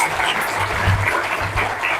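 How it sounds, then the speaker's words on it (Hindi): Audience applause at a public talk on mental health and stress: dense, steady clapping from a crowd that stays loud and even through the whole short stretch. "Big round of applause."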